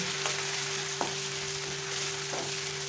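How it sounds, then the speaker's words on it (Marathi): Ginger, garlic and coriander paste frying in hot oil, a steady close sizzle with a few soft stirring scrapes, heard alone. "आले लसणाचा कच्चेपणा जाईपर्यंत आपल्याला हिला परतून घ्यायचे आहे"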